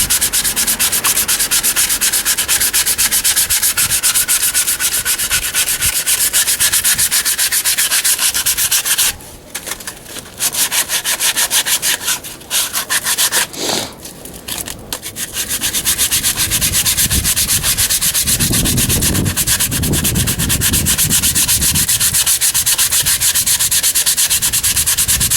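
Sandpaper scrubbing glazing off a rear drum brake shoe from a 2007 Pontiac G5, a loud continuous close-up rasping with a couple of brief pauses and a slower rubbing stretch near the end.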